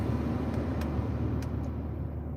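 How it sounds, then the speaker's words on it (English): Low, steady V8 engine rumble heard from inside the moving car, a continuous muffled drone with a few faint clicks, no voices. "are you all hearing like all of the rumble of my engine? That V8."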